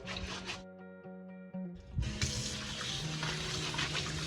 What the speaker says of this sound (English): gonna start by washing our pineapple